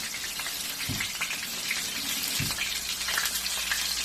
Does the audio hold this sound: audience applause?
no